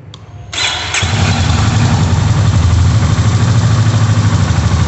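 A Honda CB 350 motorcycle engine fires up after a brief crank and settles into a loud, steady thumping idle, the exhaust note close and continuous with no talk.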